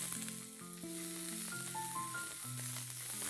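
Onion frying in hot oil with asafoetida and curry leaves gives off a steady close hiss, with a few tonal squeaks mixed in.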